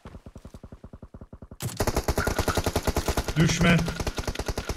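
Rapid automatic gunfire in PUBG Mobile on the Sanhok map, loud and close, a steady burst of evenly spaced shots that grows denser and heavier halfway through, with a brief voice speaking over it.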